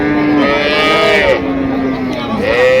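A cow moos close by at a cattle market, with a couple of long, low calls, one following another and no talk over them.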